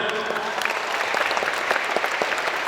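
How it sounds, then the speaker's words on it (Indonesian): New students at a pesantren welcoming assembly break into steady, dense applause from a full hall, the clapping close and continuous with a few louder individual claps standing out. "Ya, tepuk tangan."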